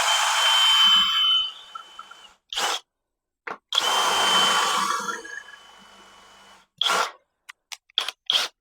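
A power drill bores a pilot hole into the frame of a 1961 Rambler, running in two long whirring bursts that bog down as the bit bites, with short trigger pulses and clicks between.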